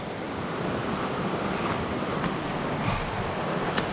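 A small waterfall spills into a mountain valley stream in Gangwon-do, a constant broadband rush of falling and splashing water close by, steady throughout with some wind buffeting and no talk.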